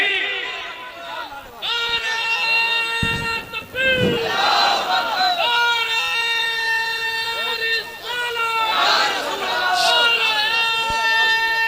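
A large crowd at a religious gathering roars a loud, sustained chanted response, many voices rising together in drawn-out cries that fill the clip and swell again near the end.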